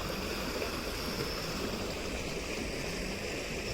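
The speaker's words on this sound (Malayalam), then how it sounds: "വെള്ളം കുത്തി ഒഴുകുന്ന ശബ്ദം കേൾക്കുന്നില്ലേ?" Water rushes steadily in a small stream, a dense, even broadband hiss and gurgle that holds constant and close throughout with no voices.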